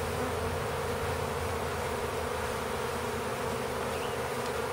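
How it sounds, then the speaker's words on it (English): A dense swarm of honeybees hums loudly and continuously around a hive box, the close, steady buzzing of many insects unbroken throughout. "there's a lot of bees that want to come in here but don't have a whole lot of space"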